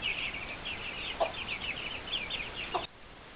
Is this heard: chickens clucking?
yes